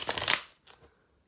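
A deck of tarot cards is riffled in one quick, close shuffle, followed by a softer second flick, with no talking.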